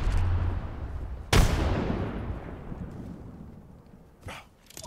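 A frag grenade detonates in the battle royale game Apex Legends with one sharp, loud crack that decays into a fading rumble, followed by a brief softer thump near the end.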